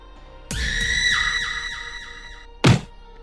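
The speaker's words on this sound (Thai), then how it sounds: "เสียงกรีดร้องของน้อยดังก้องป่า" A woman's long, shrill scream rises and trails off with an echo, as a sound effect in a narrated Thai moral tale, followed by a short sharp impact.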